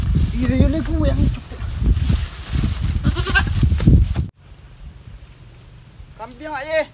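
A goat bleating on a rural outing, a couple of wavering near bleats over background voices, then a quieter stretch before another bleat at the end.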